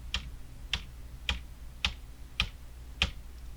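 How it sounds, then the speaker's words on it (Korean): Six evenly spaced clicks of right arrow keys on a computer keyboard, each a crisp close tap about half a second apart in a quiet room. "키 누른 채로 오른쪽 방향 키 6번 누르고요"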